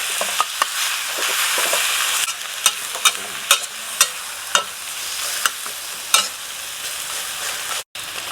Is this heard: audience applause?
no